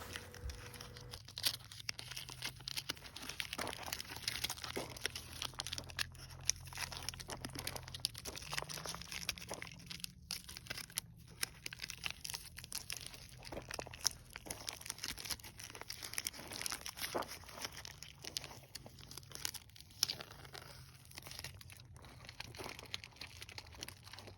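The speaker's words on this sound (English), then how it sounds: "something about pulling tape off of fresh paint just so satisfying watching that cut line" Masking tape peeling off a freshly painted wheel with VHT wheel paint, giving a long run of faint, close crinkling and tearing rustles with a few sharper snaps. No voices.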